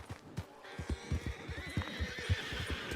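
A horse whinnies in the Red Dead Online game world, a drawn-out high neigh over steady clip-clop hoofbeats that thud rhythmically and fairly close throughout.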